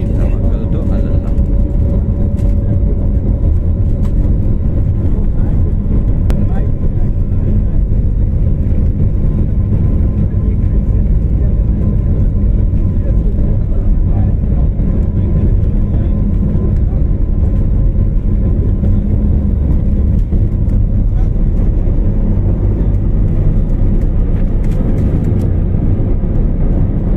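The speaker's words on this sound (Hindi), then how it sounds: "हवाई जहाज़ ने टेक ऑफ कर दिया।" Inside an airliner taking off from Srinagar, a loud, continuous engine roar and cabin rumble fill the whole stretch, steady and dense, with a voice talking faintly underneath.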